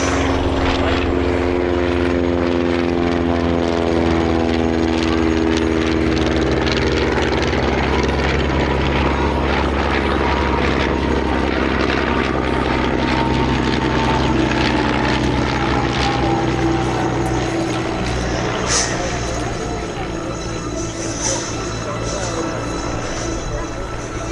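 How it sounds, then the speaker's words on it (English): A World War I Albatros D.Va reproduction biplane flies at the IWM Duxford airshow. Its propeller engine drones loudly and steadily, with the pitch sliding as it passes, while a commentator talks over it. "the D5A that we see represented by the splendid reproduction from the World War I Aviation Heritage Trust here"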